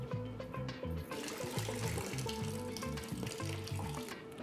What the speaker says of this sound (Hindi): ऐसे धो के इसको ऐसे पहला पानी निकाल देना है